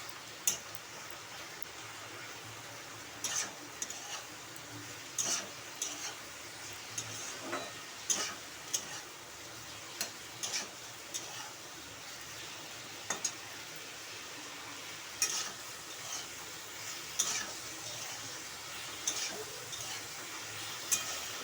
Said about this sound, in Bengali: সাথে আদা রসুন আর পেঁয়াজ আর লঙ্কার পেস্ট করে রেখেছিলাম, এটা দিয়ে দেবো। একটু বেশি করে দিয়ে দেবো, দিয়ে এবার নাড়াচাড়া করব।